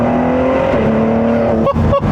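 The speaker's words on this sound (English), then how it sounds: "So I'm gonna floor it here real quick, just kind of see what happens, see how it goes." A 2017 Ford GT engine is floored at full throttle, giving a loud, close, steadily rising drone that drops briefly twice near the end as gears change.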